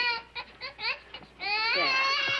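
A baby cries in a scene from the 1962 film Only Two Can Play, starting with short choppy wails and then swelling into a sustained, loud, high-pitched cry.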